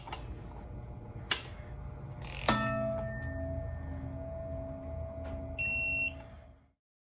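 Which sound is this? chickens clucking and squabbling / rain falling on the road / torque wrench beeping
torque wrench beeping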